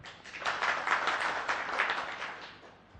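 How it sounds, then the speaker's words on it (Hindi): An indoor audience at a spiritual talk breaks into applause, with dense, fairly faint clapping that swells, holds for a few seconds and tapers off. "तो एक बार तो नए सेशन के लिए तालियां हो जाए।"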